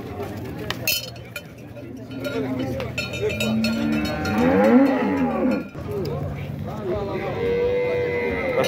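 A young female calf moos in a drawn-out, wavering call amid a busy outdoor dairy cattle market in Dois Riachos, Alagoas, Brazil, with clinking and other animal noises around it.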